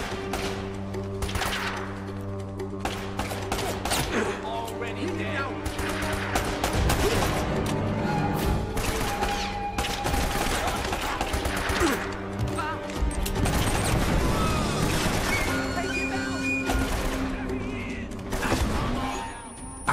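Gunfire in the Uncharted: Drake's Fortune Remastered waterworks level: dense, continuous bursts of shots and crashes over a loud, busy game soundscape, with occasional voices mixed in.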